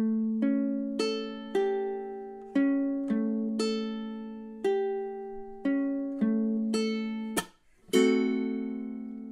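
Ukulele etude passage of plucked melody notes in steady rhythm, each ringing and decaying, ending with a brisk strum, a brief gap and a long ringing chord, played solo and close.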